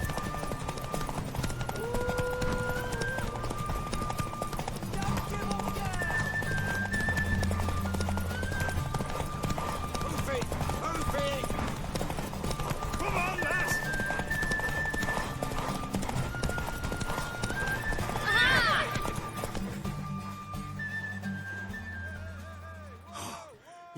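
Hoofbeats of a horse, a mare, galloping in The Witcher 3: Wild Hunt, a steady clip-clop running throughout under game music and effects, fairly loud, with a horse snort or whinny near the end.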